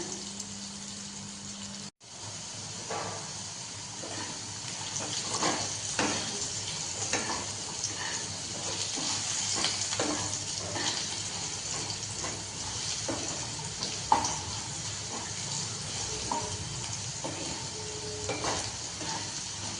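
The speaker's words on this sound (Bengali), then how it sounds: "লো মিডিয়াম আছে দু থেকে তিন মিনিট সময় নিয়ে ভালো করে ভেজে নেব আলুটাকে" Potatoes fry over low-medium heat in a pan for a snake gourd and poppy seed dish, a steady moderate sizzle with scattered light scrapes and taps of stirring.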